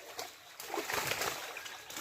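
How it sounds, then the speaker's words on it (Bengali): Fish jumping and splashing in a private pond, giving a couple of brief watery splashes and sloshes at close to middle distance, with faint outdoor background and a bird call. "নিজের পুকুরে মাছ সেই মুহূর্তে লাফালাফি চলছে"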